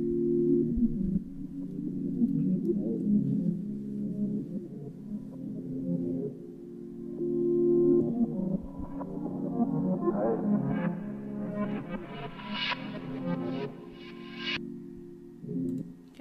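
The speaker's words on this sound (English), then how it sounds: "I added a low pass filter on it, which I have automated." A hip-hop beat in FL Studio plays with an automated low pass filter sweeping over it, the muffled low tones gradually opening into brighter, sharper upper notes before closing down again.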